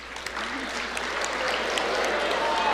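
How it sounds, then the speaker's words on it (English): Students applaud at an award ceremony, a steady wash of clapping that holds at an even level and swells slightly toward the end. "You'll get better at holding your applause."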